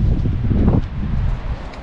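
Wind blowing across an exposed seaside hilltop at a large coastal castle, a steady, loud buffeting rush on the microphone with no voices.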